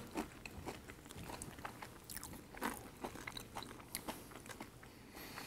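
Bread spread with homemade butter is bitten and chewed close up, giving soft rhythmic crunches and wet mouth sounds with no talk.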